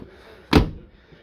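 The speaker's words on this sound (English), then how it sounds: "that's how easy the door closes" A single solid thump of a Jaguar XJ6 car door shutting, close by, a sharp slam that fades quickly against a quiet background.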